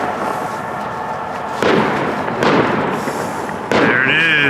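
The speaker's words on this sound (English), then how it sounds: "there's fireworks going on in the background" New Year's fireworks bursting outdoors, a continuous crackle and rumble with three louder booms, one followed by a faint rising whistle.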